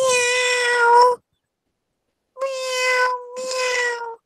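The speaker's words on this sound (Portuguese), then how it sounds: "Miau, miau." A cat meows three times, loud and close, with a long pause after the first cry and a short gap between the last two.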